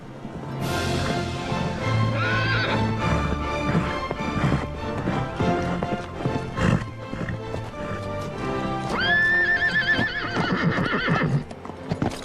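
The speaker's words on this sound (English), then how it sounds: "How the heck did you learn to ride a horse like that?" A horse whinnies loudly with a long, wavering neigh near the end while hooves clip-clop rhythmically throughout, set against music in a TV sitcom scene.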